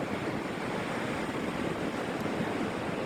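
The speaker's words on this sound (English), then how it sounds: "And they are high waves today." High ocean waves roll onto the beach at Daytona, a continuous broad roar of surf with steady wash and some wind rumble, close and constant with no talk over it.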